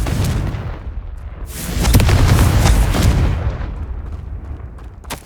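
A Confringo explosive spell goes off in the Hogwarts Legacy video game: a deep, rumbling blast that surges twice and then fades, with no voices.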